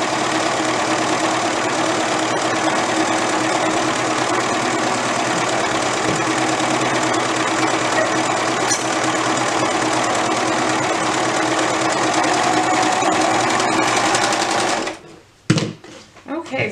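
A sewing machine stitching the side seams of a dress, a fast steady mechanical whir running for about fifteen seconds before stopping abruptly, followed by a few handling knocks.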